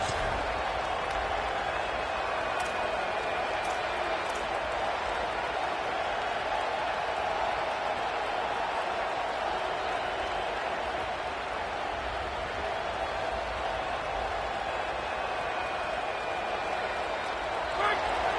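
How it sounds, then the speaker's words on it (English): Stadium crowd at an Ohio State college football game roaring steadily and loudly to urge on the home defense, a dense, sustained wall of noise lasting throughout. "Listen to this crowd just shaking the girders of this place trying to help their defense"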